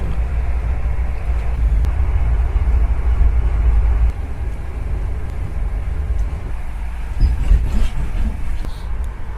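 Steady low rumble of a passenger train travelling through Scotland toward Dundee, heard from inside the carriage as a loud continuous drone with faint clicks.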